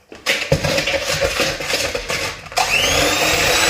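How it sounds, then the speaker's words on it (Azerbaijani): A Gepas electric hand mixer whirs steadily through cake batter, a continuous buzzing motor drone that runs close and loud, rising in pitch and intensity near the end. "Əl mikseri ilə, mənim mikserim Gepasda, inarsız, elə qəşəngdir ki, düz 15 ildir mən bunu istifadə edirəm"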